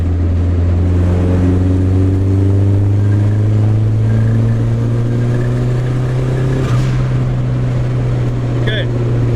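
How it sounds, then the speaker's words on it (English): A turbocharged KA24DE engine in a Datsun 510 pulls hard in fourth gear, a loud, steady engine drone rising gradually in pitch as it accelerates, with a brief sharp change near the end. "I'm just gonna give it some gas."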